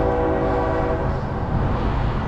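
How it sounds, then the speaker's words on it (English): A train near a river path in Calgary sounds a loud, sustained horn blast, and the horn then fades into a steady rumble of passing rail cars, heard without speech. "And there's a train I was talking about."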